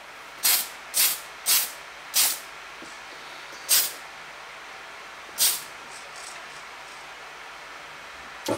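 Aerosol gloss varnish sprayed onto a scale model submarine in short hissing bursts, about six close spurts, quick at first and then spaced further apart, with no talking.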